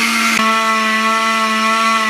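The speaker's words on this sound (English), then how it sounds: "All the ingredients are in the blender." A kitchen blender purees tomatoes and other ingredients with a splash of broth, running loud and steady with a constant high whirring motor tone that drops slightly after a brief jolt near the start.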